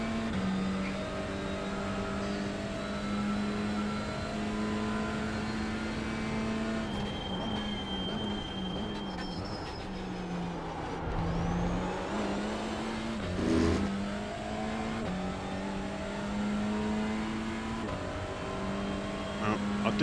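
A TCR race car engine at Sebring in the iRacing sim drones loudly and continuously, its pitch stepping up through the gears and dipping under braking, while someone talks over it.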